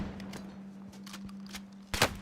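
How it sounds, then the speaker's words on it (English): Sparse gunshots crack in a Call of Duty Warzone match, a few faint distant pops followed by one louder, closer shot near the end over a low steady hum. "The guy on the roof starts shooting"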